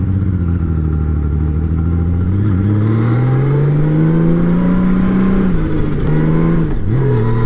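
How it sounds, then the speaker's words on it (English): A Honda Valkyrie motorcycle's 1520cc liquid-cooled, carbureted boxer six engine running close by, a loud steady rumbling drone that rises gently in pitch and then settles back, with no voices. "So this is a 6-cylinder Boxer 6 1520cc liquid cooled engine."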